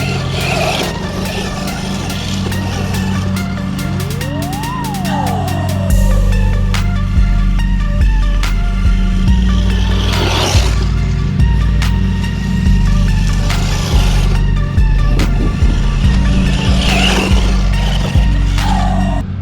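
A FUUY KFPlan 1/10 scale 4WD RC monster truck drives over rough ground, its electric motor whining continuously and rising and falling with throttle, with bumps and rattles throughout.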